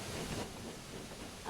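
A steam engine shunting goods trucks around a yard in a Thomas & Friends video game, heard as a steady, fairly loud hissing rumble of steam and rail noise with no talking.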